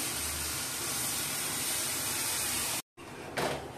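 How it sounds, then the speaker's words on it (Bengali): Water is poured into sautéed spiced masala in a hot pan for a katla fish curry, raising a loud steady sizzling hiss that cuts off briefly, then returns with a sharp surge. "এবার আমি এতে জল দিয়ে দেবো। দিয়ে দিচ্ছি মশলা ধোয়া জল।"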